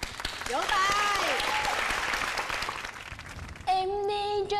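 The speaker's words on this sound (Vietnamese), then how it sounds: "Rồi, vỗ tay." A studio audience claps on a Vietnamese entertainment show, the applause running under talking voices before it fades and music with a singing voice starts up.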